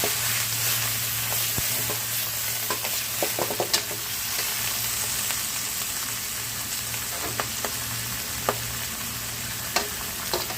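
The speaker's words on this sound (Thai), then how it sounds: "ใส่ลงคะน้าลงไปผัด ก่อนนะครับ" Chinese kale sizzles steadily in hot oil as it is stir-fried for a pork dish, with scattered clinks and scrapes of a spatula against the pan over a faint background hum.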